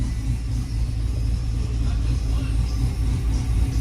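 A 1994 Chevrolet Silverado truck with a swapped LT5 V8 and 10-speed transmission, about 1000 hp, idles steadily at close range, a deep continuous rumble with low harmonic throb and no pauses.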